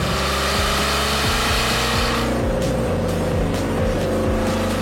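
A Ford GT engine revs hard and close, its loud, raspy note rising and falling through several sharp throttle blips with no talk.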